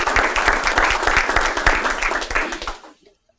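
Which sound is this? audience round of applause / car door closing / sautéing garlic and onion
audience round of applause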